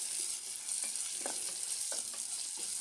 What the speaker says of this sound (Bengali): এখন পেঁয়াজগুলো ভুনা করতেছি।